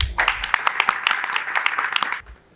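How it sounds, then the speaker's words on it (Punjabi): An audience claps together in a sustained burst of applause for a man at a public gathering, dense and fairly close, fading out at the end. "ਸਭ ਸੁਨੀਲ ਭਾਈ ਵਾਸਤੇ ਘੁੱਟ ਕੇ ਤਾੜੀਆਂ ਮਾਰੋ।"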